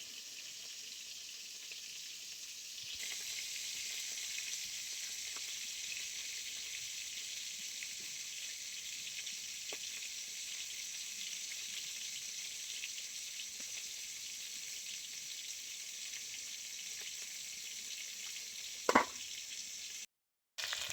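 Snakehead fish pieces fry in a pan of hot oil, giving a steady, close, even sizzle that runs without a break for most of the stretch, with a brief clatter near the end.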